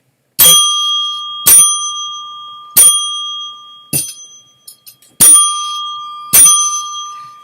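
Bicycle bell rung as a sound effect, six sharp bright rings at irregular intervals, each ringing out and decaying, loud and close with no talk.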